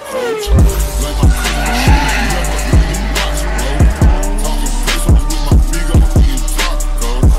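A car skids and slides at an event with simulators and go-kart racing, tires squealing over a steady loud engine drone, with repeated sharp thumps and squeal bursts about every second.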